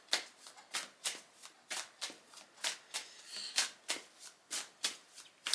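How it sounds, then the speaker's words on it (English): A tarot deck being shuffled close up, repeated riffling bursts in a quick, steady rhythm, with no voices. "Giving the deck a really good shuffle."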